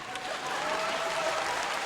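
Steady applause from a comedy show audience rolls on without a break, a thick wash of many hands clapping at even loudness.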